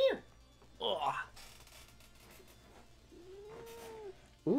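Domestic cat meowing indoors, with two loud, close meows at the start and a longer, drawn-out meow near the end, and a faint background hum in between.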